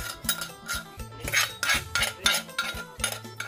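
Kitchen utensils scrape and clatter against a metal basin while a mixed spicy Thai salad is tossed, giving rapid, uneven metallic scrapes and clinks that continue close up with no talking.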